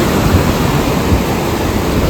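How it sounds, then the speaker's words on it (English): Atlantic Ocean waves break on the shore as a loud, dense, continuous roar of surf and rushing water, with faint wind buffeting on the microphone and no voices. "it's been so long since I've seen the waves"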